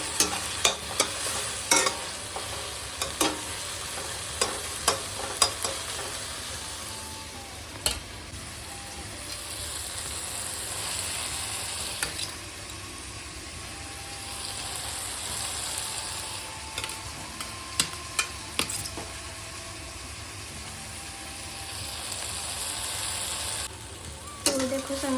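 Bharta being stirred and fried in a pan, with steady sizzling and repeated scraping strokes of a spoon across the pan for the whole stretch, fairly close and moderately loud.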